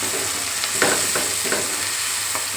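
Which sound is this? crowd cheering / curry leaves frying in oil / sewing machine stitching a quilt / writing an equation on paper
curry leaves frying in oil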